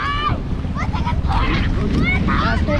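A strong river current rushes in a broad, constant wash with wind buffeting the microphone, while voices talk over it throughout.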